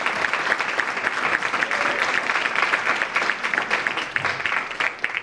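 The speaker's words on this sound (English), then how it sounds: "Let's give Mr. Gill a round of applause." Sustained, dense applause from an audience at a scholarship breakfast honoring Dr. Martin Luther King, Jr., steady and fairly loud throughout with no voices standing out.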